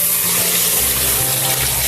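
About one and a half litres of water gushes steadily and loudly into a cooker holding two cups of soaked dal, a continuous pour with no talking.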